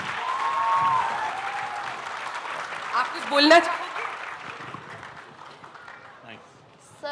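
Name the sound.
audience applause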